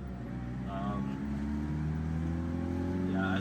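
A BMW 2002 engine being revved as the accelerator is pressed, a low mid-pitched drone that rises in tone and loudness over a few seconds, with brief speech-like sounds near the start and end.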